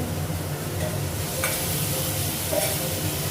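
Potatoes sizzle and hiss steadily in a hot pan with spices while being stirred, a continuous close frying crackle with occasional scraping, no voices.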